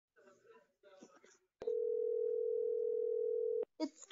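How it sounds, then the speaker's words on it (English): A telephone call on speakerphone gives a single steady electronic tone that lasts about two seconds. Voices talk just before it and right after it stops. "It's ringing."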